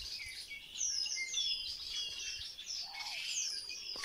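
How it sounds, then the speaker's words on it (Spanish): Small songbirds sing in the middle of a forest: several high, clear chirps and whistled trills overlap at moderate distance over a soft, steady outdoor background, with no talk. "les voy a dejar unos segundos para que oigan el canto de los pajaritos"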